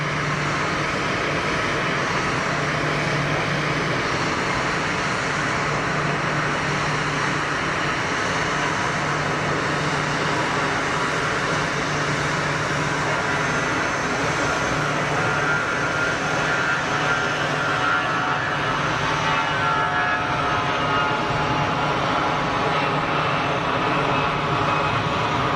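An airliner departing Geneva Airport, bound for Tunis, gives a loud, sustained jet roar that holds steady across the whole stretch with no voices over it.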